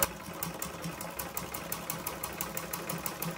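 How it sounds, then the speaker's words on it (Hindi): A sewing machine stitches lace onto the edge of a dupatta, its needle running in a fast, even mechanical rhythm that carries steadily throughout; close and fairly soft, with no voices. "अब ऊपर सिलाई करेंगे।"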